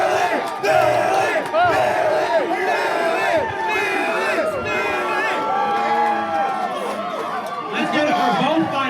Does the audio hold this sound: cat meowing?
no